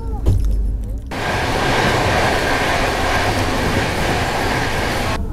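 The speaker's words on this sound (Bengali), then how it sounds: "কলকাতা থেকে 1283 কিলোমিটার পথ চলা সম্পূর্ণ করে আমাদের ট্রেন এই মুহূর্তে এসে পৌঁছালো তার যাত্রাপথে উত্তরপ্রদেশের একটা স্টেশন" Akal Takht Express train arriving at Bareilly Junction in Uttar Pradesh after its run from Kolkata, a steady loud rumble of rolling wagons with rail clatter that begins abruptly after a brief quieter moment and continues unbroken.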